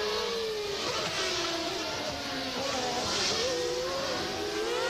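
Formula 1 race cars, a Williams following a McLaren at the 1995 Japanese Grand Prix, their engines a steady high whine rising and falling in pitch as they pass, heard at a distance without a break.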